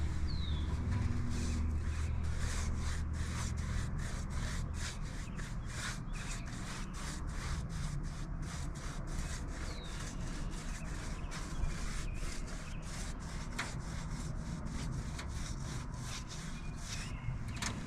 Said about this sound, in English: The practical reason we would generally sand a wall this rough is that it takes forever to brush it out.